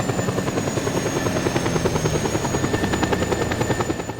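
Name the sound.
military helicopter in video game Just Cause 2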